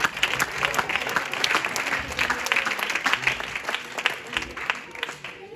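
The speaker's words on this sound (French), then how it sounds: "si on peut s'applaudir" Steady applause from a sizeable crowd at a church service, dense clapping that keeps going without a break at an even, fairly loud level.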